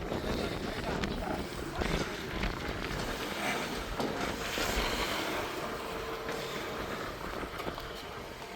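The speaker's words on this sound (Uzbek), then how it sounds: "Shamol bo'lib turibdi axir bu yerda." Strong wind blows outdoors in Jom village near Samarkand. It makes a steady, rumbling roar that buffets the microphone, and muffled voices sit faintly underneath.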